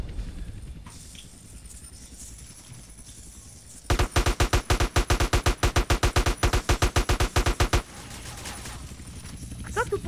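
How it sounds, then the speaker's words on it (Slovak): Sustained automatic machine gun fire in GTA San Andreas multiplayer: a loud, rapid, evenly spaced burst of shots lasting about four seconds, set against game background noise. "Kto tu po mne strieľa, hej?"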